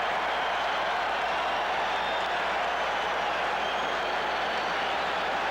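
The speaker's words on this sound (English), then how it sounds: "And the crowd salutes him." A stadium crowd at a 1985 NFL game between the San Francisco 49ers and the Detroit Lions applauds and cheers a Lions running back, a steady dense roar of clapping heard from within the stands.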